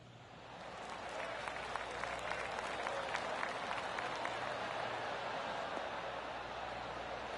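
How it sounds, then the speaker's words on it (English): Soft crowd applause from spectators at a golf green in the PGA 2K25 video game, a steady wash of light clapping that rises after a second and holds, quiet and distant. "Oh, golf clap."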